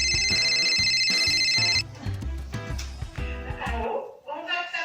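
A telephone rings with a bright, repeating electronic tone for nearly two seconds, then falls silent as other sounds follow.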